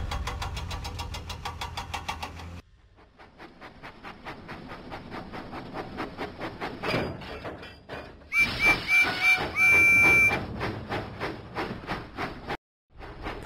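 A chugging engine rhythm plays in a Thomas and Friends video game, with repeated puffs under bright game music and some brief electronic tones.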